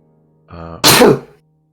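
A single sharp sneeze, preceded by a brief voiced intake, bursts out loudly and close, then stops abruptly into silence.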